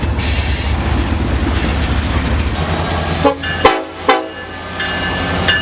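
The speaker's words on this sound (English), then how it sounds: "2 cars and the train going right past it" A train rolls right past close by with a loud continuous rumble and rattle of wagons, and a few short horn blasts sound near the end.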